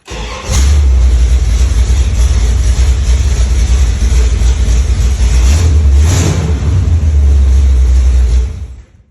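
A Dodge Charger engine cranks and fires, then runs loud and close with a deep steady rumble and a couple of blips of revving before cutting off near the end.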